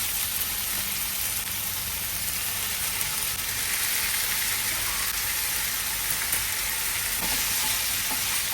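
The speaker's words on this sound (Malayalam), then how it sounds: "ഒന്ന് നന്നായിട്ട് മിക്സ് ചെയ്ത് മഷ്റൂമായിട്ട് നന്നായിട്ട് മിക്സ് ചെയ്യുക." Pasta stirred into browned mushrooms in a pan hisses with a steady, close, continuous sizzle, with faint scraping of stirring now and then and no talk.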